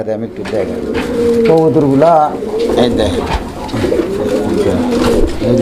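Fancy pigeons on sale at a wholesale dealer's coo loudly and close up in repeated throaty, bubbling calls that overlap one another.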